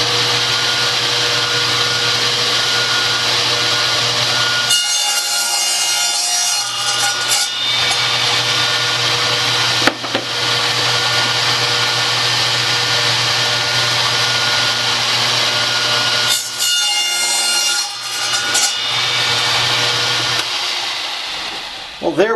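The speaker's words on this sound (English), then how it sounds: "Be good if I plug the saw in. Electricity helps things like this, you know, electric saws." An electric saw cuts wood for a homemade arcade game controller, a loud steady mechanical drone with a low hum that dips briefly around a few points before resuming.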